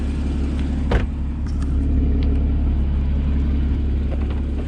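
A Porsche 981 Boxster GTS engine idles with a deep steady rumble, close by, with a brief sharp click near the start and no talking.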